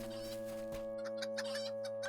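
Chickens clucking in a video game, a few short bursts of clucking over a steady tonal game soundtrack with sustained hum.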